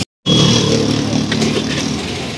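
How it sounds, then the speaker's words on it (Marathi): An auto rickshaw travelling during heavy rain, its small engine droning steadily and loudly from inside the cabin with road and rain noise mixed in, after a brief silent gap at the start. "आपण रिक्षातून निघालो आहे आता"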